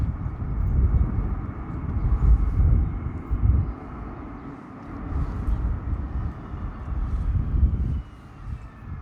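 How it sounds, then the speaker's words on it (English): A heavy, low engine roar drones steadily as a military plane passes overhead on Terceira, loud and continuous with slight swells. "Now that looks to me like a military plane."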